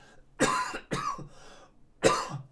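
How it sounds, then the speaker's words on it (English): Three harsh coughs close to the mic, two in quick succession and a third after a short pause, with no talking. "This cough is just annoying."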